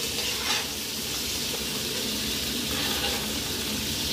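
Shrimp fry in oil in a wok, giving a loud, continuous, close sizzle with a light scraping stir, filling the whole short stretch without pause.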